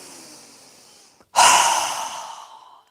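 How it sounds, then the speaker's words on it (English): One slow, quiet breath drawn in through the nose during a yoga class, then a strong, loud exhale through the mouth that fades over about a second. "inhaling through our nose, exhaling with a strong breath through our mouth"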